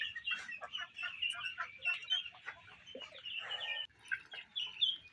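A farmyard of hens, with ducks nearby, gives a busy mix of clucks and chattering calls, nearly continuous and fairly close, rising and falling in short overlapping bursts.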